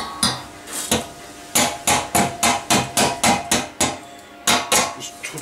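A hammer chips slag off a weld in sharp, close metallic strikes, about a dozen loud blows in quick irregular bursts with short gaps, ringing briefly after each hit.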